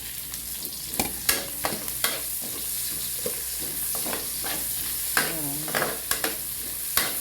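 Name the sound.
sautéing garlic, ginger and onion in a frying pan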